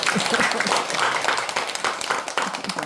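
Scattered audience clapping at a temple cooking lecture in Jindo, a few seconds of uneven applause with some voices mixed in.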